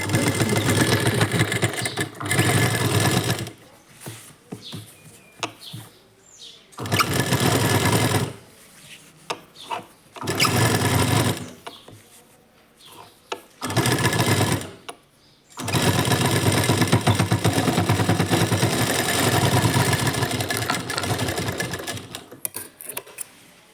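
A sewing machine stitches a churidar in several loud, close runs of rapid whirring, separated by short pauses, with no talking.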